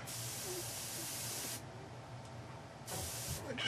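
An airbrush sprays liquid chrome paint in a steady soft hiss, with a pause partway through before the spray resumes close up.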